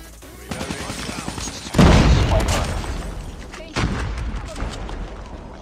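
Grenade blasts in a Call of Duty Mobile Hardpoint match, loud booms landing amid continuous gunfire, with a second heavy explosion a couple of seconds after the first.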